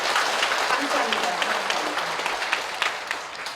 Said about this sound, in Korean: 영광의 하나님께 박수를 드립니다